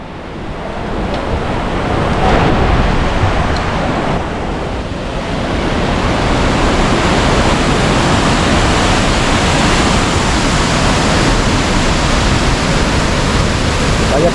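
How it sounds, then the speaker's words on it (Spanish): A stream in flood near the Cascajales spring in Benaoján roars steadily, a loud broad rushing wash of water close by, with wind buffeting the microphone and a faint voice underneath. "aquí tenemos el arroyo que viene del nacimiento de Cascajales"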